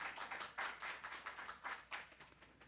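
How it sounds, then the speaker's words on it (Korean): A small group claps for a poet at a Korean community March 1st Independence Movement Day ceremony in Dallas, a faint, sparse run of uneven hand claps with distinct individual strikes. "수고해 주신 김미 시인께 큰 박수 부탁드립니다."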